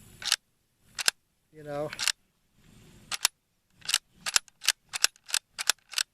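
The straight-pull bolt of a Schmidt Rubin 1911 carbine is cycled close by, giving a series of sharp metallic clacks and snaps, sparse at first and then in quick bursts. Someone briefly speaks among them.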